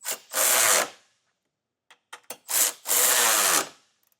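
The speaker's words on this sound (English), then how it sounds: "Now we can go through and tighten the rest of our hardware down." A handheld power tool tightens trailer hitch hardware on a 2022 Kia Sportage, running in two loud, close bursts of about a second each, with brief clicks and handling noises in the pause between them.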